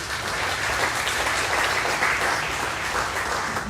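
Steady applause from an audience at a school district bond meeting, a continuous wash of many hands clapping at even volume throughout, with no voices over it.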